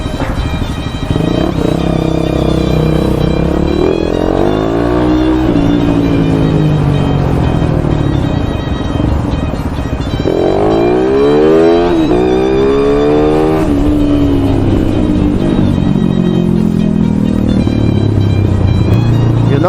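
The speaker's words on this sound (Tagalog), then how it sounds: "Sobrang traffic." Heavy, congested traffic on West Service Road rumbles steadily, with cars and motorcycles revving up and pulling away nearby in repeated rising sweeps over a constant engine drone.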